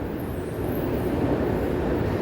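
A Panama City metro train at a station platform, electric with overhead power lines, its steady low rumble rolling continuously and fairly close with no pauses.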